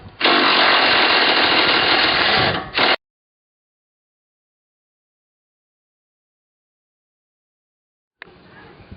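A power driver zips bolts out of a Hummer H3 sway link in a loud, buzzing burst of about three seconds, then falls silent before a quieter whir starts up near the end.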